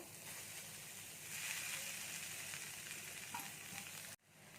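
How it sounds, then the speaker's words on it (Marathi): Cooked rice with turmeric and salt being stir-fried in a pan with roasted peanuts, for South Indian lemon rice; a steady, close sizzle with scraping stirs runs throughout and cuts off sharply near the end. "हा भात चांगला आपल्याला परतून घ्यायचा आहे"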